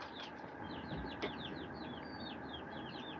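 Chickens chirp and cluck faintly in a rapid, steady chatter of short calls over a low, constant background hum.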